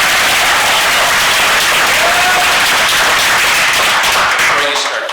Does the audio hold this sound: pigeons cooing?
no